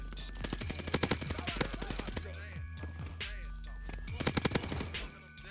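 Rapid bursts of automatic gunfire from a light machine gun with a 100-round magazine in Call of Duty: Vanguard, loud and close, in several rattling volleys with brief pauses between them.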